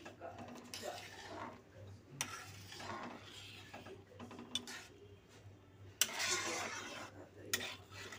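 A spoon scrapes and clinks against a metal pot while khichuri of rice and lentils is stirred over a gas flame, in irregular close scraping strokes with a few sharper knocks, faint talk underneath.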